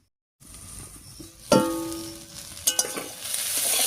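Fried eggplant drops into a pan of sweet potato greens, setting off a sudden sizzle that keeps frying steadily, with a couple of clinks from stirring nearby.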